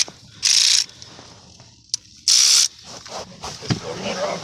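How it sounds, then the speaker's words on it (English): A small 1/4 inch spinning ratchet loosens blower motor bolts on a 2008 Ford truck, giving two short, close bursts of rapid ratcheting about two seconds apart, with quieter handling noise between and after. "It's this little 1/4 inch spinning ratchet."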